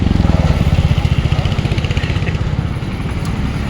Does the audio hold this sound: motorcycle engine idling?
yes